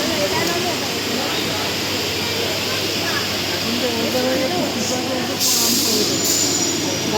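A train runs on its rails with a steady rumble and roar, and a brief hiss swells near the end, with the sound heard from close by at a station.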